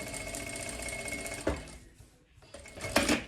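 A sewing machine stitches a hood onto a bath towel, running steadily and close up, pausing briefly partway through, then starting again with a louder burst of stitching.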